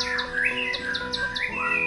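A white-rumped shama (murai batu) sings a quick series of bright, whistled chirps and trills, close and clear over a faint steady background hum.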